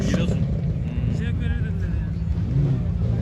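An off-road race car accelerates hard at a Sapanca off-road race, a loud, steady engine roar heard at a distance with wind noise, while spectators talk over it.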